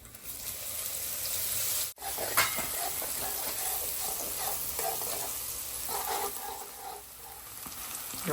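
Green onion frying in hot oil for tuver totha, a broad steady sizzle and hiss running throughout with a brief dip near two seconds, close and fairly quiet, no talking.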